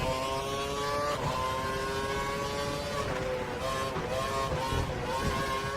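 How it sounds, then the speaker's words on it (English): F1 car engine in F1 2012, a continuous high-pitched whine that rises and dips as the throttle is blipped, with brief surges toward the end, loud and steady. "a few bites of the throttle"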